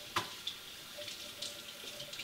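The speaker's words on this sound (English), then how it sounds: "you want to bring it over to the sink, and you want to run it under water" A sink tap runs water over a cloth, giving a soft, uneven splashing and trickling with small drips, faint and close, with no voices.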